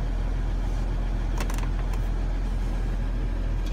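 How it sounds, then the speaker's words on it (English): A 2014 Jeep Grand Cherokee engine runs steadily after a push-button start, a constant low rumbling idle heard from nearby with a few faint clicks partway through. "It is push button start."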